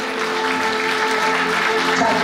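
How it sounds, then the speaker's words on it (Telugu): Loud, sustained clapping from a children's audience at a Christian gathering, dense and continuous throughout with a steady crowd roar underneath. "గట్టిగా చప్పట్లు కొడదామా?"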